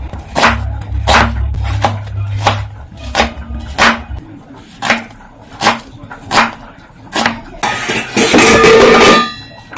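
Onions are chopped with a knife on a cutting board, about a dozen sharp, evenly spaced thuds at close range, ending in a brief clatter as the pieces are gathered up.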